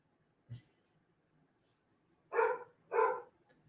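Dogs bark indoors, one faint short yip followed by two louder, close barks in quick succession against a quiet background.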